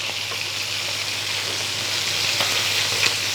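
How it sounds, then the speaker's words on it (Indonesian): Balarica fish fries in hot oil while being basted, half fried and half grilled, with a continuous, even, close sizzle and occasional small pops and no talking. "Siram-siram pakai Minyak panas. minyak panas. Jadi ini tuh goreng tapi setengah bakar kali ya."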